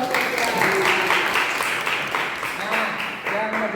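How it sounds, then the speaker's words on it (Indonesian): Classroom applause for a student, a short burst of clapping from a group of pupils with some voices and chatter mixed in, steady for a few seconds. "Tepuk tangan dong buat Kesia."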